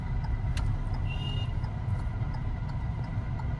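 A Hyundai i20 engine hums steadily from inside the car while driving, a continuous low rumble with faint higher tones, no talk heard.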